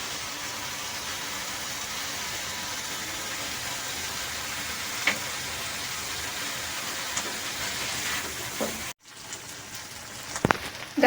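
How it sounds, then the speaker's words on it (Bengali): Spice masala fries in a pan for lasooni paneer with a dense, steady sizzle, close and uninterrupted, before a brief break near the end followed by a few scraping clicks. "এবার দিয়ে মশলাটি আমি ভালোভাবে কষিয়ে নেব।"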